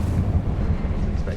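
Incendio fire spell cast in Hogwarts Legacy, a deep rumbling whoosh of flame that fills the low end loudly and steadily through the short moment, with a speaking voice mixed in.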